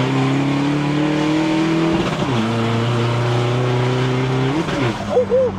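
A car engine revs hard under acceleration with a loud, close, rising tone. The pitch drops briefly twice between climbs, and the revving continues strongly to the end.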